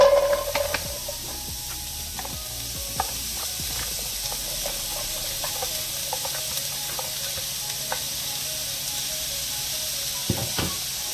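Onions fry in avocado oil in a pan, giving a steady sizzle and hiss with occasional stirring clicks and scrapes close by, and no voices.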